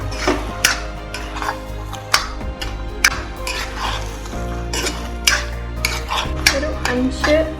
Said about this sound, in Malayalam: ഒരു 5 മിനിറ്റ് ഇങ്ങനെ 10 നേരം റോസ്റ്റ് ചെയ്താൽ മതി.